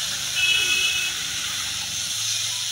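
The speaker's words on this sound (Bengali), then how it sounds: "এখন গরম তেলে কড়াইয়ের মধ্যে, লোহার কড়াই যেহেতু রান্না করছি, ছেড়ে দিলাম সবগুলোকে।" Marinated murol fish dropped into hot oil in an iron wok, heard as a steady, close sizzling hiss that holds evenly throughout.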